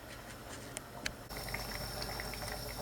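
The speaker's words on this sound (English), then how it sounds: "we will drop this into the salted boiling water" Salted water boils steadily in a pot with a bubbling hiss. A couple of small splashes mark food being dropped in, and the boil then grows louder and fuller.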